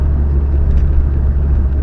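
A rebuilt Vauxhall Astra on its first drive gives a steady, close, low engine rumble with road roar that runs unbroken throughout.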